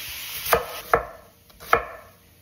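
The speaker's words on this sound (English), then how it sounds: "Chop up 1 onion" A knife chops through an onion on a cutting board with three crisp, separate strikes at an uneven pace, close and fairly quiet, over a faint steady background hiss.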